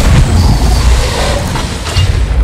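Ship cannons fire in the pirate video game Sea of Thieves: loud, deep booms rumble over one another, with a few sharper bursts in between.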